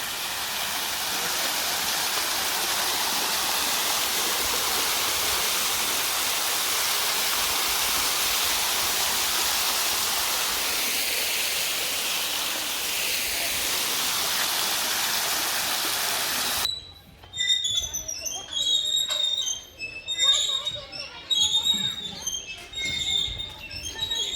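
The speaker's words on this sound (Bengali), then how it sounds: "ঝর্ণা" A garden fountain by a seating area at the Mohera Zamindar estate in Bangladesh gives a loud, steady rushing of falling water for about seventeen seconds, then cuts off abruptly into quieter, different sounds.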